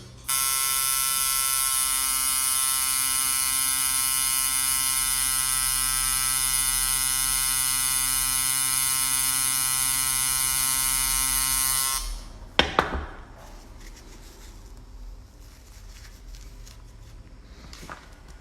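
A tattoo machine held with its needle straight runs with a loud, steady electric buzz for about twelve seconds, then stops sharply, and a few clicks and faint handling sounds follow.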